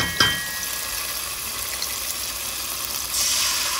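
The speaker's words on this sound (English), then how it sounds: "So now I'm going in with my sofrito, and I'm putting in 3 tablespoons." Sofrito sizzling as it hits a hot pot while making rice with Vienna sausage and corn, a steady close hiss of frying beginning with a sharp burst and swelling again near the end.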